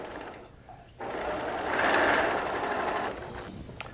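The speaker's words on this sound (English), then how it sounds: "I will do that after I finish this final seam in the quilt" A sewing machine runs a steady stitching burst on the final seam of a quilt made from Tula Pink charms and strips, starting after a short pause and stopping near the end, close and fairly loud.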